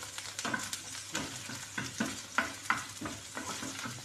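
Two eggs frying in a pan with corned beef: a steady, close sizzle broken by sharp crackles and pops, with scraping and stirring clatter at an uneven rhythm throughout.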